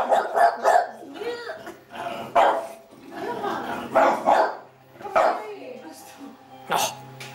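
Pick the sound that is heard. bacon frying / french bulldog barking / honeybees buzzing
french bulldog barking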